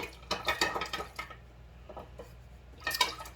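Switchel, the haymaker's punch drink, gets stirred in a container with quick clinking and sloshing strokes, a brisk flurry at first, a quieter lull, then another burst, close and faint, with no one speaking.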